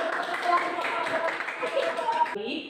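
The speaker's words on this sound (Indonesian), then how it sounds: "Ya, berikan tepuk tangan." Classroom applause after group presentations, a short burst of scattered clapping from students with voices mixed in, cut off abruptly near the end.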